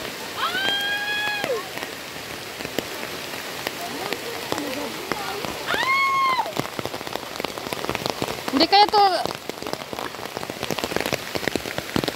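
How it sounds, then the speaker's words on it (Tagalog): Steady rain pattering on surfaces during a hike near Espadang Bato in Rodriguez, Rizal, constant and close, with people's voices calling out and talking over it at intervals. "nabutan ng ulan"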